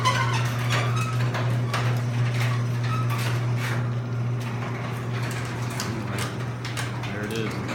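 A garage door opener raises a garage door in a steady, continuous run, its motor hum carrying ticking and clattering mechanical sounds close by.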